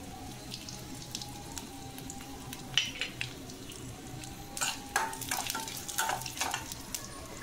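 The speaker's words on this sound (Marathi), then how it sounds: "जे काजू बदाम चारोळ्या आहेत त्या तळून घ्यायच्या." Cashews, almonds, charoli nuts and poppy seeds fry in a pan for karanji, giving a soft steady sizzle with scattered stirring scrapes and clinks that grow busier toward the end; no one speaks.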